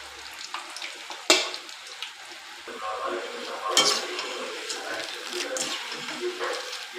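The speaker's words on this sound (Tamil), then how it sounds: "நல்லா பொரி பொறிஞ்சிட்ருக்கட்டும்" Sliced nendran banana chips deep-fry in hot oil with a continuous soft crackling sizzle, punctuated by a few clinks and scrapes of a utensil stirring the pan.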